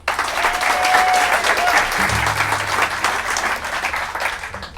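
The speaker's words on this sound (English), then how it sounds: "Give a hand for Mr. Joe DeJarnette." Applause from the audience at a live bluegrass show in a country store in Floyd, Virginia, a steady, dense wash of clapping filling the whole stretch, with a brief low voice murmuring partway through.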